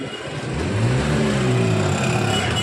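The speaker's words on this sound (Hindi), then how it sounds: "आपने सुना कितना ट्रैफिक था, बहुत ही ट्रैफिक था" Busy street traffic in a brass-ware market town: a continuous roar of car and motorbike engines with revving rising and falling, close and loud, no talk over it.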